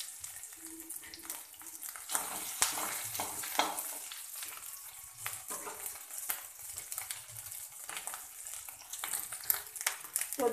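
Whole cumin seeds sizzle in hot oil for a bhetki fish curry, a steady crackling fry that stays close and moderately loud. Sharp pops and spits break through it throughout.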